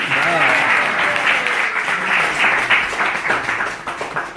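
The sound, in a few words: audience applause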